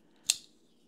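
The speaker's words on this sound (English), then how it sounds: "So what I'm going to do is I'll cut this section here" A single sharp snip of scissors cutting through a section of cord for a homemade knee ascender, close and brief against a quiet background.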